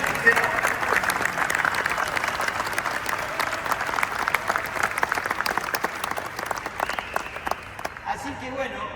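Audience applause at a book launch held at La Rural, sustained and fairly loud clapping from a crowd, with talk over it, fading toward the end.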